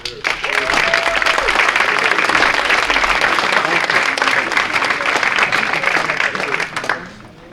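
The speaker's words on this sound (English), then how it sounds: "Give a round of applause to Jason Ford." Audience applause at a semi-pro baseball hall of fame induction ceremony, loud sustained clapping from a large crowd filling the room before fading out at the end.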